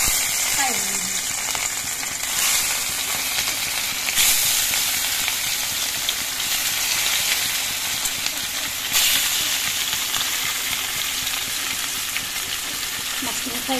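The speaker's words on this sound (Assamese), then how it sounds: "এতিয়া মাছখিনি ইয়াত ফ্ৰাই হ'ব।" Pieces of fish fry in hot oil in a wok, giving a steady, close sizzling hiss with occasional louder bursts and faint stirring clatter throughout.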